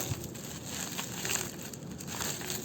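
A foil seal being torn and crinkled open on a jar of Indian food, heard as a faint, continuous rustling crackle against steady background noise.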